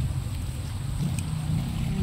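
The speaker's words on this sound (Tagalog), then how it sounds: "May creek dito o malakas na tubig." Strong creek water rushing steadily beside a morning walking path, a continuous broadband wash with a low rumble, heard alone and fairly close.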